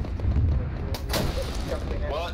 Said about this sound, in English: What is with all these grenades?